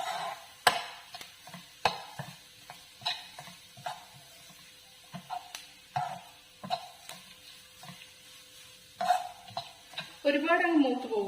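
Crushed coconut and green chilli stirred into mushrooms frying in a pan for mushroom thoran, a spoon scraping and tapping against the pan in uneven strokes, then a sharper sizzle at the end, all close by.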